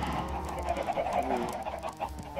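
Chickens cluck continuously in Minecraft, several birds overlapping in busy, close, fairly loud clucking with a steady low hum underneath.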